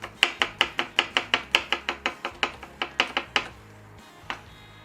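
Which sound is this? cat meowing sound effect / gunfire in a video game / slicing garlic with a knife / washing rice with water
slicing garlic with a knife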